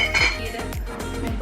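Dishes and cutlery clink and clatter in a home kitchen as they are handled, several sharp ringing knocks in a loose rhythm, close by and fairly loud, with no one talking.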